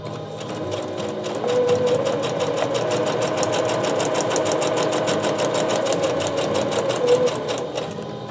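Sewing machine running steadily at speed, a rapid even mechanical stitching rattle that stays loud and close from start to finish.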